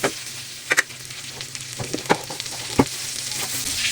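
Butter melting in a pan for a lasagna white sauce, a continuous close sizzle with a few sharp pops and spoon scrapes scattered through it.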